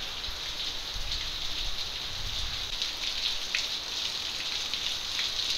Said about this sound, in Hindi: बारिश कितनी तेज तेज सी हो रही है।